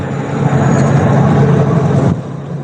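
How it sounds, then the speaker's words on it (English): A loud truck idles right alongside, its broad, steady engine rumble filling the air for a couple of seconds before it drops slightly near the end. "This loud ass truck is right next to me."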